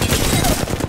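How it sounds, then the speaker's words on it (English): A quick, loud burst of gunfire from the video game Apex Legends, made up of several rapid shots packed into under a second, heard close with no talking. "Getting shot at."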